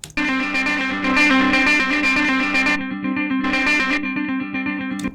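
An electric guitar played through a distortion pedal on a Logic Pro X pedalboard, with gritty, saturated chords ringing loudly, a brief dip, then another sustained distorted phrase.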